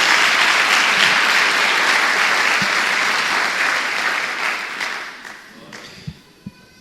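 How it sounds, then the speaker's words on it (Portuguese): A church congregation breaks into sustained applause, dense and loud at first, then thinning out and fading, with a few scattered final claps near the end. "Dê uma salva de palmas ao nosso Deus."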